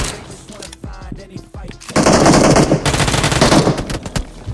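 Automatic weapon fire in a BGMI battle royale firefight, rapid bursts of shots beginning sparse and then turning loud and dense through the second half, with no talk over it.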